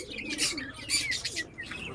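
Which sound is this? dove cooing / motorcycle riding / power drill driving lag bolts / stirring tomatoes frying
dove cooing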